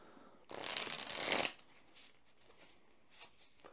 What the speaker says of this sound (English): We're going to go ahead and shuffle up the cards